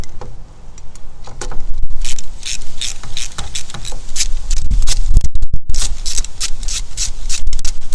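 Ratchet work tightening new bolts on an MS3 mechanism: loud, continuous rapid clicking from the pawl, in bursts with brief pauses, close up.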